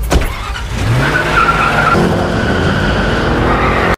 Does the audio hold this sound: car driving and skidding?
yes